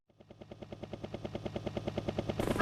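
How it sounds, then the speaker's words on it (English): A rhythmic chopping thump of helicopter rotor blades grows steadily louder as it approaches, ending in a burst of rushing noise. "Shelly, that's a helicopter"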